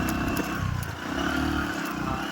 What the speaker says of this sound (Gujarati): બાઇક બીજા ગેરમાં કે પહેલા ગેરમાં ચડાવવું પડે